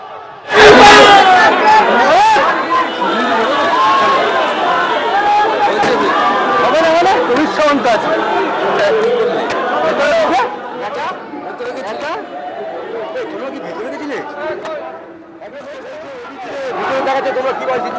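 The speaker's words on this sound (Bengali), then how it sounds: "ওদিক থেকে তৃণমূল চোর চোর স্লোগান দিচ্ছে, পাল্টা বিজেপিও স্লোগান দিচ্ছে" Rival political crowds chant slogans back and forth at a heated election rally during a road show in Bhowanipore, Kolkata, a dense roar of shouting voices with rhythmic chants rising and falling throughout.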